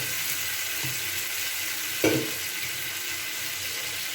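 Spice paste hits vegetables frying in a pan for a Bengali shukto with dal bori, giving a steady close sizzle with a brief stirring scrape partway through.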